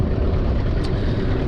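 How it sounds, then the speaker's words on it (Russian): An outboard boat motor idles steadily while warming up on the Pechora River before a downriver fishing trip, a continuous low rumble close by with no talk. "Рыбачить будем с ночевкой, пока прогревается мотор."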